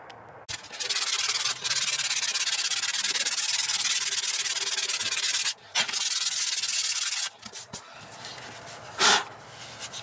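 A damaged interior car trim panel is sanded by hand with 120 grit sandpaper, giving close, steady abrasive rubbing in long sustained stretches with short breaks.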